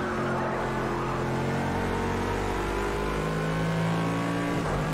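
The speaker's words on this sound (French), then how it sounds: "Et ce bruit de la Bentley qui est vraiment absolument génial." A Bentley race car engine in Project Cars 2 at Monza drones steadily at high revs, a continuous loud mechanical roar with shifting pitch, holding for several seconds without a break.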